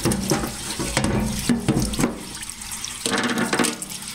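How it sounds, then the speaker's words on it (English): Water runs steadily in a parts washer over engine parts being cleaned, a close splashing flow with brief changes in intensity and no voices. "This is my parts washer, and right now I'm just letting it kind of soak in"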